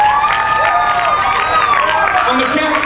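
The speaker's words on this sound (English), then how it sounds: "Would you give Matthew a round of applause?" A church congregation cheers and claps for Matthew, with children's shouts and excited voices rising over scattered applause in a loud, lively burst.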